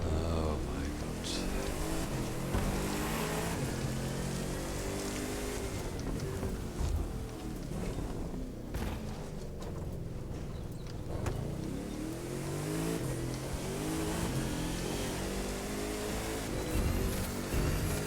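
A car engine in The Crew 2 roars continuously and loudly, rising and falling in pitch as it revs, with wind-like rushing and occasional thumps mixed in.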